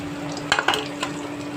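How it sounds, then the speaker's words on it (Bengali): Whole spices dropped into hot oil for a Bengali bagar tempering, giving a steady sizzle with a few sharp crackling bursts near the middle, close and moderately loud, with no talking. "ঠিক আছে এখন বাগার দিয়ে নিই। তেলটা গরম হয়ে গেছে, এটা আমি এগুলো দিয়ে দিচ্ছি।"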